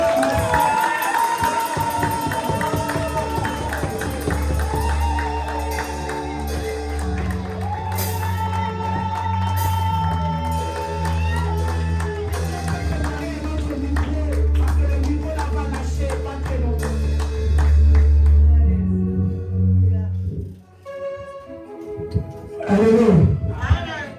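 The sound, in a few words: congregation cheering and acclaiming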